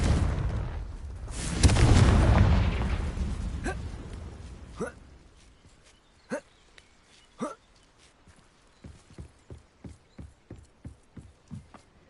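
A fiery Confringo spell explosion in the Hogwarts Legacy video game booms loudly at the start and fades out. A series of sharp, quieter game impacts follows at uneven intervals.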